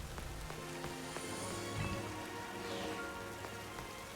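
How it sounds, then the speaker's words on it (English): Steady rain falling on surfaces in the video game Pokémon Legends: Z-A, a continuous, even patter with scattered droplet ticks that runs alone at a moderate, constant level. "It's raining."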